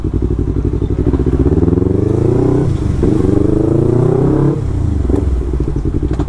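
A Yamaha MT25 motorcycle engine on a test ride, loud and close, with a buzzing twin-cylinder drone whose pitch climbs under acceleration, drops at a gear change, then rises again.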